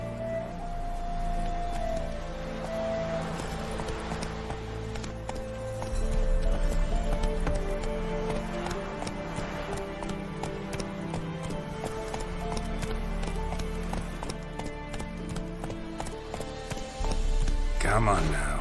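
In The Witcher 3, a horse gallops with steady rhythmic hoofbeats, close and continuous, under a voice urging it on, with a brief whinny-like sound and rising wind or motion noise near the end.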